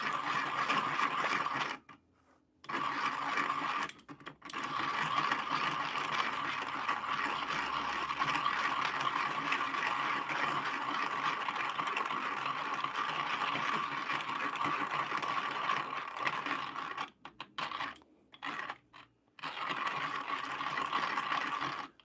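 A flat burr hand grinder crunches through coffee beans in a steady, buzzing whir, close and loud, broken by a few brief pauses.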